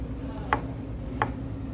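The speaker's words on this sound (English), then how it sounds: "you always slice your garlic, don't chop your garlic" A knife slices through garlic cloves on a cutting board, making two crisp, evenly spaced taps close up over a low background hum.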